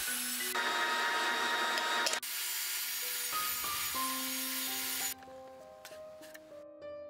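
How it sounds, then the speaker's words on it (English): Table saw cutting half-inch plywood at an angle using a temporary jig, a loud continuous whine and blade rasp that drops in pitch as the cut ends and the blade spins down. "I devised a temporary jig for my table saw to cut 1/2 inch thick plywood at"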